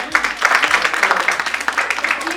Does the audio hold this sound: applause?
yes